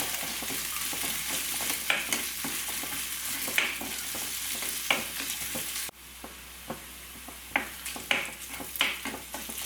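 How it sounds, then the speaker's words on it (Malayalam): Shallots and curry leaves fry in coconut oil for an egg curry with mango, giving a steady close sizzle broken by repeated stirring scrapes, with a brief drop in level partway through. "ചെറിയുള്ളി ഒന്ന് മൂത്ത് വന്ന് തുടങ്ങിയിട്ടുണ്ട് ഇപ്പോൾ കണ്ടു നന്നായിട്ട് ഫ്രൈ ആയിട്ട് വന്നിട്ടുണ്ട്"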